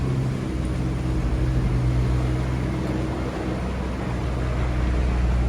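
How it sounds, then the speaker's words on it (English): A Cummins engine on a fast tracked machine roars in a steady, loud, continuous drone with a low humming rumble, heard alone without talk. "Hear the roar of a Cummins engine on a fast track."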